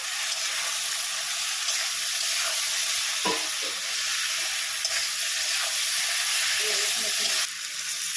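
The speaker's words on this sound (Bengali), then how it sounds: "এর মধ্যে দিয়ে দিলাম মশলাটা, আর কষিয়ে নেব।" A ground paste of ginger, cumin and chilli with chopped tomato fries in a pan for a fish curry, making a continuous loud hiss and sizzle with a few soft stirring scrapes.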